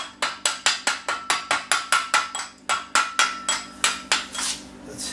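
A hammer striking a fillet weld on metal during work on a Honda VT600 project, about sixteen sharp ringing blows in a steady rhythm, close and loud with short metallic decays between hits.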